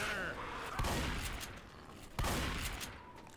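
Shotgun blasts go off in the game Left 4 Dead 2, with two sharp reports about a second and a half apart. Each one stands out over steady, noisy game ambience, and a voice talks underneath.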